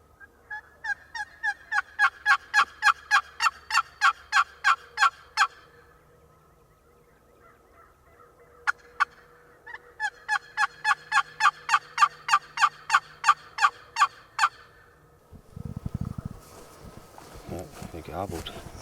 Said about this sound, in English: That one bird's gobbling by himself down there.